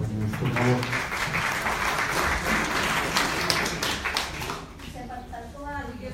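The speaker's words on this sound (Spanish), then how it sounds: "Un aplauso para él, compañeros," An audience at a national conference applauds a speaker, a steady burst of clapping over about five seconds that fades into murmuring voices near the end.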